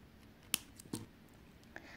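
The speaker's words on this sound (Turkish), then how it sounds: "kısa olan misinamı diğer boncukların arasından geçirip kesiyorum." Scissors snip through fishing line while beading, with a couple of sharp, close, quiet cuts and faint handling clicks in a mostly hushed space.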